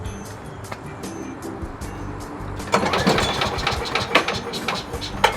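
A Briggs & Stratton engine on a Craftsman leaf vacuum chipper, choke set about midway, cranks with rhythmic chugging, then sputters louder and rougher as if nearly catching, never quite settling into a run.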